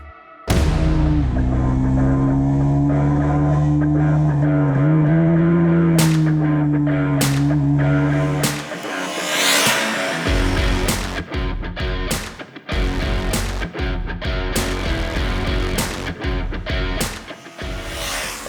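A 2021 KTM RC 200, a 200cc faired motorcycle, idles with a steady droning engine note for several seconds, then breaks into a series of sharp throttle blips and revs.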